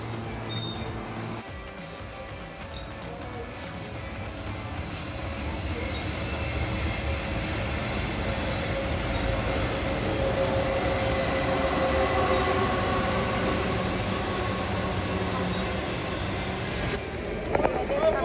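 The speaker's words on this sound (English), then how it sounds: "This train can speed up to 200 kilometers per hour." A Brisbane passenger train runs steadily along the tracks, a continuous rumbling roll of wheels and carriage noise that builds slightly and holds at a constant level.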